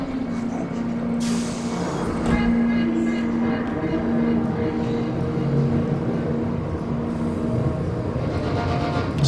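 Train in the Late Shift video game, a loud continuous rumble of a moving train with steady hum, hiss and rattling throughout.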